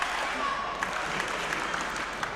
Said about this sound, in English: And you hear the crowd get into the